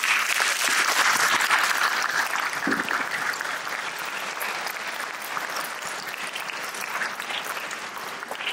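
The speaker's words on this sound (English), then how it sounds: "Let's have another round of applause for them." A concert audience breaks into sustained applause, many hands clapping in a dense steady roar that is loudest at first and then settles slightly while continuing to the end.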